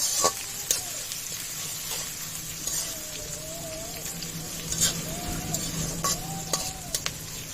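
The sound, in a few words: chopped onion frying in hot oil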